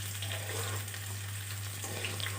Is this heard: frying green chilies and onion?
yes